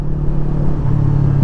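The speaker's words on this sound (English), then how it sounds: "it still has that really throaty rumble, especially with the Acura exhaust here" A 2020 Yamaha R3 motorcycle with an aftermarket exhaust idles in a steady, close, low rumble, a continuous throaty drone with no talk over it.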